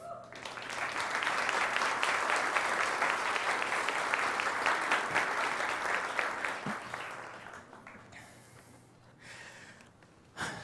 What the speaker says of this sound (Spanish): quiero que le demos la bienvenida con un fuerte aplauso a Laura y César